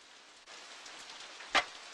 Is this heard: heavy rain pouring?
yes